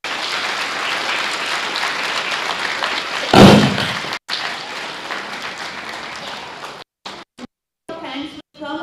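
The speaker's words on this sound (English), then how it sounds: "please give a big round of applause to all these children." Sustained applause from an audience at a children's summer camp finale, dense and steady clapping with one loud thump partway through, broken by several abrupt gaps toward the end.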